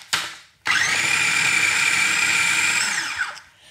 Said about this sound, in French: ensuite, on n'a plus qu'à fermer et à mixer le tout